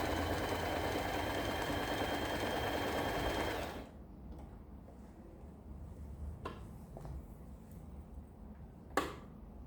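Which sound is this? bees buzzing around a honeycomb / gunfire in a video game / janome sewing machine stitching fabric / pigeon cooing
janome sewing machine stitching fabric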